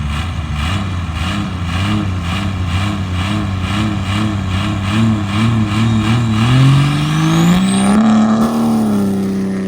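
A Cummins diesel engine in a dirt drag racing buggy revs in repeated pulsing bursts, then climbs in pitch as it winds up louder with a rising turbo whine, close and loud with no talking.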